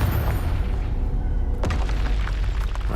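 A Confringo blasting spell explodes in the Hogwarts Legacy video game, a loud deep boom that swells over a dense rumbling game soundscape, with a sharp burst about halfway through.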